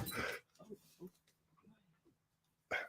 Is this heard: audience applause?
no